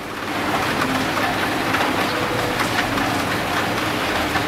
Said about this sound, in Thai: ตั้งกล้องไว้ให้ดูฝนตก